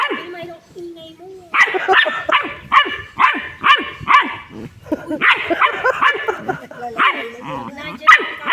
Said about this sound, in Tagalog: Napagod ka na, kakatahol